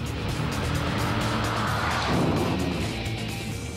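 A race car engine in the Gran Turismo video game drones steadily and loudly through a fast lap, its pitch shifting slightly as it changes gears, with no other sounds.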